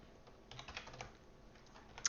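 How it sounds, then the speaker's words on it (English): Steady typing on a computer keyboard while starting a blank Flutter project, with a rapid, quiet clatter of keys running throughout and a sharper tap at the very end. "we're just going to start typing away"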